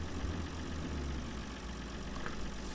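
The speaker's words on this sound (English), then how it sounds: "the sound of this tractor sounds really strange for this type of tractor" A tractor engine in the Farming Simulator 2013 video game drones at a steady low pitch, a constant dense hum with no voices over it.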